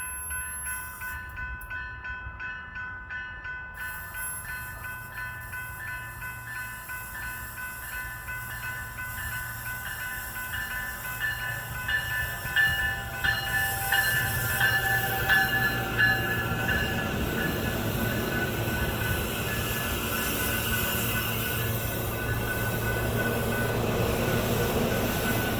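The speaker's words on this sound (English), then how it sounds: "Train to 124th station now arriving on track 1." Denver RTD N Line commuter rail train pulling into the Commerce City station, a steady rumble of wheels on rail with faint squeals, building louder as it nears and holds close, no voices.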